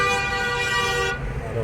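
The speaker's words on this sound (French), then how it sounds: "Klaxon." A car horn blares in a street in the Mansour district of Meknès, Morocco, one long sustained toot held loud and near for over a second before cutting off into traffic rumble.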